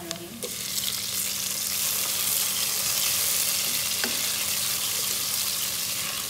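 Tomatoes hit hot oil with fried ginger and garlic for a potato carrot dish, a sudden loud hiss that settles into a steady, close sizzle.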